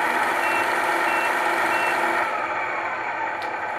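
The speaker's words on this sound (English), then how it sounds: "You can hear the backing beeper." A 1/14 scale Tamiya King Hauler RC truck with a light and sound unit plays a steady, continuous electronic reversing beeper. The tone holds loud and unbroken for the whole stretch.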